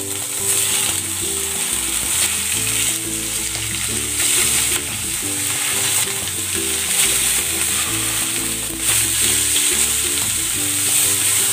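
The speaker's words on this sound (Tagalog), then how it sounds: "Maglalagay ako ng kunting cooking oil. I-sear ko muna itong chicken." Chicken searing in cooking oil in a pan, a loud, steady sizzle with some stirring and clanking, alone with no talk.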